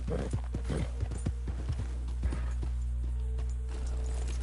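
Horse hooves clip-clopping in the video game Red Dead Redemption 2, a steady run of close, distinct hoofbeats over a constant low hum, fading toward the end.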